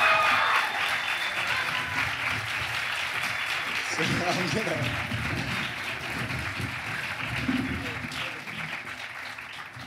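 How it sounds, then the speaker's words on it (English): An audience at the Summer in the City convention applauds panel guests as they come onstage, the clapping steady and sustained at moderate distance, with a person talking over it at the start. "Big round of applause, everybody!"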